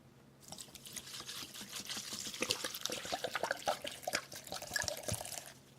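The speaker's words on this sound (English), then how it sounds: "Can I pour all of it?" Liquid salsa ingredients pour and splash into a bowl, a steady trickling stream with scattered drips and small spatters, close and fairly quiet.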